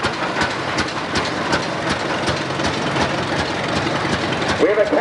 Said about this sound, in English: We have a Caterpillar 50 coming up here